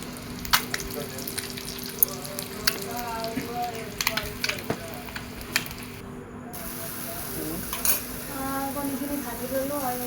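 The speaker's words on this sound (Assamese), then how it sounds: "আৰু এয়া কণীখিনি গোটেই ফ্ৰাই কৰি ল'লোঁ, গোটেই লাল কৰি কিনে ফ্ৰাই কৰি ল'লোঁ।" Eggs fry in a pan in a home kitchen, a steady low sizzle with occasional clinks of utensils against cookware and a voice now and then.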